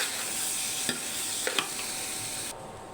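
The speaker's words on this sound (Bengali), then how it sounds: "চালটা ভালো করে এখন ভাজে নেব।" Polao rice toasting in a pan with hot salted oil for tehari, a soft continuous sizzle with a few scraping stirs, fading quieter near the end; no voices.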